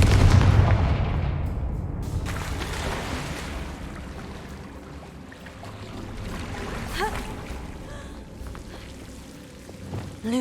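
Confringo fire spell blasts from Hogwarts Legacy, a loud rumbling explosive burst at the start that decays into a low roaring wash, with further crackling impacts and swishing effects later, all without talk.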